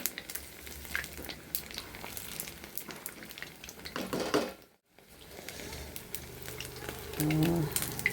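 Sago vadas fry quietly in hot oil, giving a soft, steady sizzle with scattered crackles, briefly dropping out before resuming a little louder.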